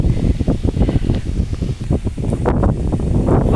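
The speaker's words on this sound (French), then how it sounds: "Oh, il y a du vent frais là, ça fait du bien." Wind buffets the microphone outdoors in steady gusts, a low rumbling roar with rustling texture, loud and close throughout.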